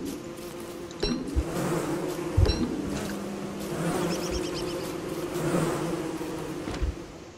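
Swarm of killer bees buzzing in the Don't Starve video game, a faint steady insect drone with a few soft clicks and thumps scattered through, no voices.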